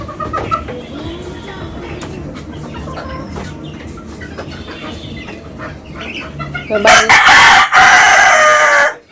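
Rooftop chickens cluck and murmur at close range, then a rooster lets out a loud, drawn-out crow near the end.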